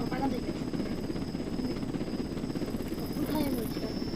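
A helicopter descends in the video game Jailbreak, a steady low rotor drone with a faint whine holding throughout at a constant level.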